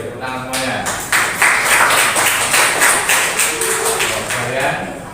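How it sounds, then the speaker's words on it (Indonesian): A class of students applauds in a classroom with brisk, fairly regular claps that repeat for several seconds, close and lively. "Tepuk tangan semuanya"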